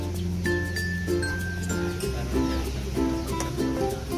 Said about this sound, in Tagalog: Halos kalimitan mga niya dito is yung mga red bar mga kalapatids